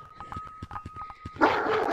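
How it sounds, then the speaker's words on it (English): A dog gives a quick run of short, high barks and yips nearby, followed by a sudden burst of broadband noise. "Polo, that's my dog."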